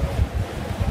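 Wind gusts buffet a small trailer sailer out at sea, a loud, rough low-pitched rumble of wind across the microphone that rises and falls, with no voices.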